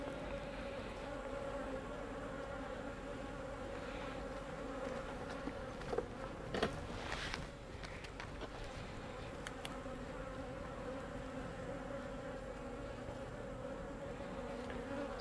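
Honey bees buzz steadily and loudly up close as a hive is opened for inspection, a dense continuous drone with a few brief knocks and handling noises around the middle.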